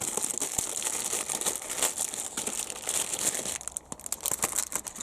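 A plastic-wrapped model railway kit is torn open by hand without scissors, giving continuous close crinkling and crackling of plastic film that eases off briefly near the end.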